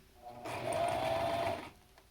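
A sewing machine stitches elastic onto a fabric face mask in one short steady whirring run that starts and stops abruptly, close and fairly quiet.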